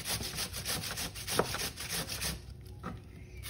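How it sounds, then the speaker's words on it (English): Cucumber being coarsely grated for tzatziki, a close, rhythmic rasping of repeated scraping strokes against the grater, with no talking. "the first thing I'm going to make is some tzatziki. So you just need some cucumber,"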